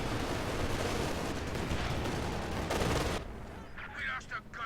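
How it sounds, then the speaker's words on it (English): Katyusha rocket barrage in a World War II strategy game: a dense, loud roar of rapid launches and impacts that holds for about three seconds, then cuts to quieter scattered battle noise with voices underneath. "great second Katyusha barrage. Did indeed wipe the ISG that was laid in there."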